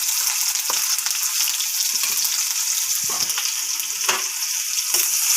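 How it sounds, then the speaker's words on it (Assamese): Chopped onions with turmeric powder fry steadily in a pan with a constant bright sizzle, broken by a few soft clinks and stirring scrapes. "ভালদৰে পিঁয়াজখিনি ভাজি থাকিম কিছু টাইম।"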